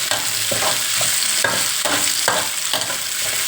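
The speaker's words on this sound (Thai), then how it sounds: "คั่วหน่อยคั่วหน่อยให้มันหอม" Chillies and kaffir lime leaves stir-fried in a pan for Thai prawn and bird's-eye chilli stir-fry, with a steady loud sizzle broken by several rhythmic scraping strokes of a spatula, close up and with no talking.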